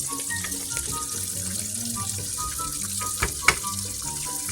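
Pork chops frying in a pot, a steady, moderate sizzle and crackle with a few sharper pops near the end, nobody talking.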